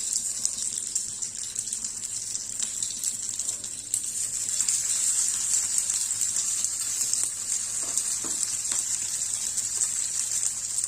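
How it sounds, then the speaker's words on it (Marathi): Tikki shallow-fry in a pan until crisp, producing a steady, bright, hissing sizzle that runs close and even throughout, with a few faint clicks underneath. "यामध्ये छान अशा टिक्की आपल्याला ह्या खरपूस भाजून घ्यायच्या आहेत"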